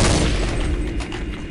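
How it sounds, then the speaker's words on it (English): A friendly airstrike lands in a Counter-Strike game running a Modern Warfare 2 mod, producing a loud, dense rumble of explosions and crackling blasts that fills the short moment and fades slightly toward the end. "Friendly airstrike."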